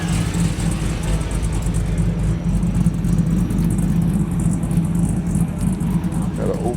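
Cars roll out from a hi-performance swap meet and car show in Long Beach, a steady low engine rumble with faint rattles continuing throughout.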